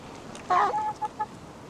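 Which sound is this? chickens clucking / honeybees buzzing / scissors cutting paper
chickens clucking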